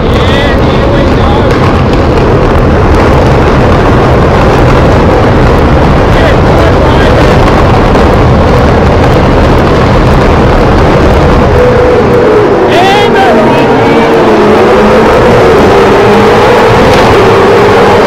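Race cars at the start of a race at Eastern Creek Raceway in Sydney roar as they accelerate, a loud, sustained engine din buffeted by wind noise, with a commentator talking over it.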